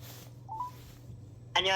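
Telephone keypad tones dial the Hyundai Card customer line: one faint short tone early, then a loud, close burst of bright harmonic tone near the end over a low steady hum.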